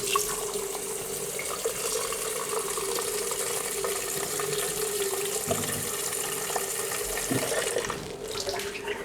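Water pours steadily into a pot from a tap, a continuous bright splashing and gushing held close for about nine seconds, with no voices.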